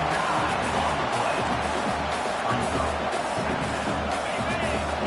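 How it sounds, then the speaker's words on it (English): A stadium crowd roars steadily at a college football game between OU and SC, a dense, continuous wash of noise that stays loud throughout while a commentator talks over it. "The roar of the crowd trying to fuel this defense to keep them pinned in their own end"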